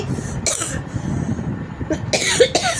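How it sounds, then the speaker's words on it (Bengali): Several harsh coughs close by, in short bursts with pauses between, ending in a cluster of two quick coughs. "আমার কাশিটা হয়েছে"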